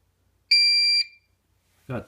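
After a system reset, a Potter PFC-6006 fire alarm panel sounds its trouble signal as a single shrill, steady electronic beep lasting about half a second. Someone briefly speaks afterward.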